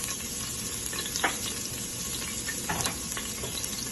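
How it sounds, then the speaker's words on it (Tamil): Crushed ginger and garlic sauté in hot oil with a steady, dense sizzle, broken by a few soft stirring scrapes close by. "சேர்த்துட்டு நல்லா வந்து வதக்கி விட்டுறோம். ரொம்ப ஓவரா வதக்கிடக்கூடாதுங்க."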